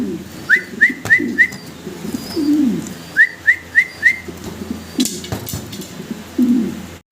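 Fancy Roman pigeons of Andalusian bloodline, in red indigo colour, coo in repeated rhythmic bursts. A male calls in clustered, close, fairly loud phrases, with softer throaty coos between them.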